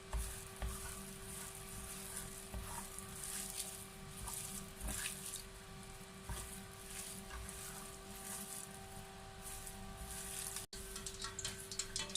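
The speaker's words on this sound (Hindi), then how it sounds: "अभी इसको अच्छे से फ्राई कर लेंगे। ऑयल हमारा गर्म हो चुका है।" Chicken pakora fries steadily in hot oil, a soft continuous sizzle with scattered small pops over a faint background hum.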